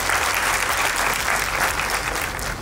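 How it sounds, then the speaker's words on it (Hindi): Dense, loud applause from an audience welcoming the chief guest at an award ceremony, continuous clapping with no talk. "उनका बहुत बहुत स्वागत करिए तालियों के साथ।"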